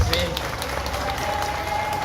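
An audience claps and cheers at a political gathering, a dense, steady wash of applause with crowd noise throughout.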